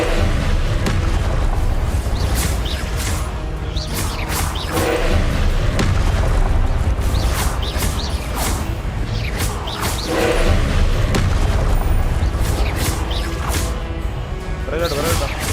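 Spell blasts from Hogwarts Legacy gameplay, including the Incendio fire spell, burst as repeated booming whooshes and crashes over dense game noise, with a voice talking throughout.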